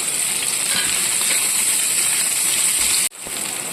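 Sliced onion sautéing in oil in a pan, a continuous loud frying crackle and hiss up close, briefly cut off near the end before resuming, with no voices.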